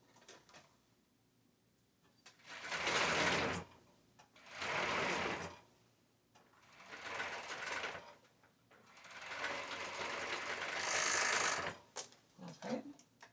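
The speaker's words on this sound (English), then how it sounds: "We're gonna curve this while we sew." A sewing machine stitches the curved yoke of a pair of rave shorts, running in four bursts of a few seconds each with short pauses between, then some soft handling noises near the end.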